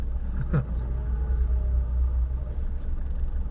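Car traffic on a road in Riyadh, a steady low rumble of engines and tyres with a faint brief tone partway through, no talk.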